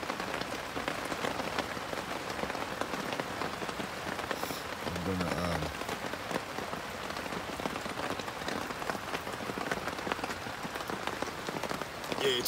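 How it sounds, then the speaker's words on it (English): Heavy rain drums steadily on a winter camp shelter overnight, a dense continuous patter close around the listener with no other sounds standing out. "It's raining hard."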